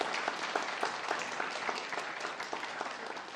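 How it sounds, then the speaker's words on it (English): An audience claps steadily at a guide dog graduation ceremony, a dense, even patter of many hands at moderate volume throughout, with no voices on top. "go ahead, round of applause, that's awesome."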